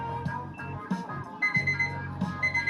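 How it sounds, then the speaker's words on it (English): An electronic device beeps in a repeating pattern of short tones inside a home kitchen, with a low hum underneath and no talking. "Why are you beeping at me?"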